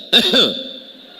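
A single short, throaty cough from a preacher during a sermon, close and fairly loud, fading into quiet room tone.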